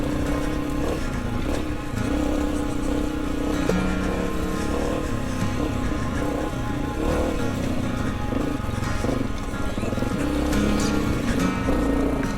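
Honda CRF250F dirt bike ridden off-road on an enduro trail, engine droning steadily with small throttle surges, loud and close throughout with no talk.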